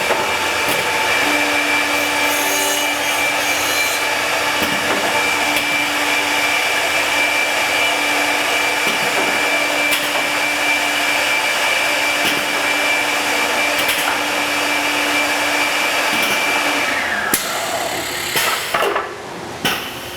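A 995-H jamb routing system runs steadily with its chisels cutting, a loud continuous machine whine with a sustained tone that holds for about seventeen seconds before winding down into scattered clunks.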